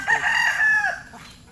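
A Peruvian-breed rooster crows once, close and loud, its call rising and holding for about a second before trailing off, with no other sounds around it.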